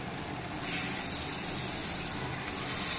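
Chicken sizzling as it is stirred into golden fried onions for a green Hariyali chicken dish, a steady broad hiss with a slight swell partway through, close and moderately loud.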